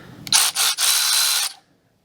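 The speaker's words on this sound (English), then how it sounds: "Been looking at buying electric ratchet for a long time. Finally pulled the trigger, and I just got this." Milwaukee M12 Fuel cordless electric ratchet spinning in three close, loud bursts, with a short first pulse and a longer final run that stops abruptly into silence.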